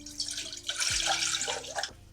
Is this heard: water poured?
yes